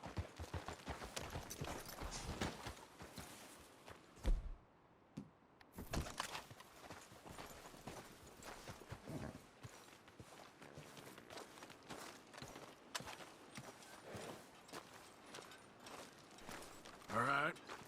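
Horse hooves clip-clop in Red Dead Redemption 2, a loose run of soft thuds and steps under quiet ambience with a short pause midway and voices talking faintly.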